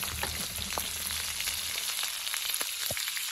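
Onion hits hot oil with coriander and cumin, frying with a dense, loud, continuous sizzle and a few sharp crackles, close up and without talk, while cooking pork with rayo saag.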